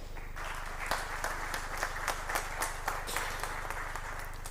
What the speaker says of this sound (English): Kindly let's give them a round of applause.